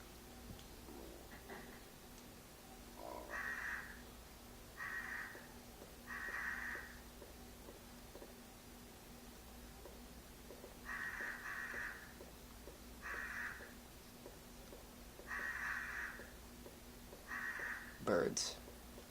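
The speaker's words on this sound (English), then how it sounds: "One thing that all Resident Evil fans will know about is the birds." Crows caw in repeated short bursts, spaced a few seconds apart, in the Resident Evil video game, over a quiet ticking background.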